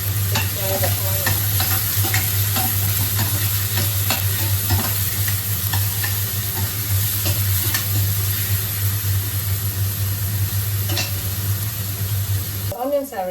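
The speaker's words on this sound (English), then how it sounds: "Still clean, so I can use the same oil. To fry the onions." Onions frying in reused clean oil in a pan, a loud continuous sizzle and crackle with scraping stirring strokes throughout, ending abruptly.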